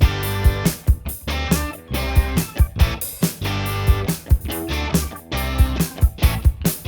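A UJAM Virtual Drummer Solid demo drum track plays a loud, punchy rock beat with steady kick and snare hits and busy cymbals, driving rhythmically alongside full band backing.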